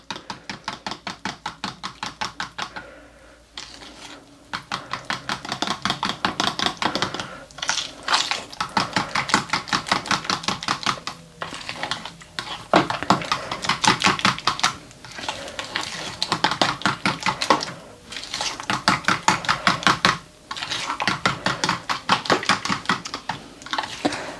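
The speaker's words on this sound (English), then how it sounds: "we are just going to give this a good mix and make sure everything is well combined" Chicken being mixed in a bowl with a bright red-orange marinade of dry spices makes a steady, close, rapid wet tapping and slapping that runs almost continuously, with a few short pauses, and no talk.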